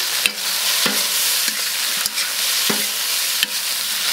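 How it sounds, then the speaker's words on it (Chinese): Shrimp stir-fry in a wok with dried chilies and Sichuan peppercorns, a constant loud sizzle broken by regular spatula scrapes about every half second. "虾先炒一下啊，因为虾还没熟，其他都熟了的。"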